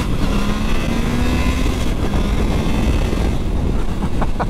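Triumph Tiger Sport 660 motorcycle pulling hard from a standstill to 60 on a slight downhill, engine note rising steadily with a gear change about midway, loud and close with heavy wind rush throughout.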